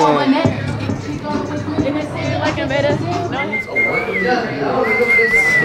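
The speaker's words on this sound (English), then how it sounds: "I just learned how to whistle." A person whistles a few sustained, wavering tones near the end, while a crowd and voices chatter and babble all around in a busy space.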